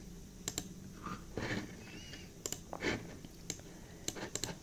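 Quick bursts of clicking keystrokes on a computer keyboard, close and crisp, with short pauses between runs of typing.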